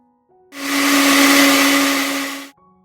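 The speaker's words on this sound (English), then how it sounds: "We put it in the blender. I push the button." Blender running on thick cooked pizza sauce: a loud, steady motor whine that starts abruptly, holds for about two seconds with a slight sag, then stops sharply, with a quieter hum before and after.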